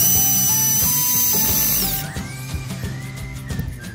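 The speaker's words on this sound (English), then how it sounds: "that makes it really easy to get these screws in." Power drill driving screws into a bed frame: a loud, high motor whine holds for about two seconds, then drops to a lower, grinding, uneven drone. No one speaks.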